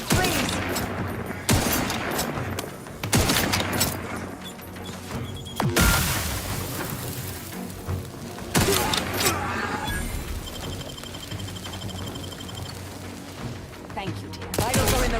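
Gunfire in the video game The Outer Worlds, heavy bursts and booming shots every couple of seconds over dense combat noise, with voices talking throughout.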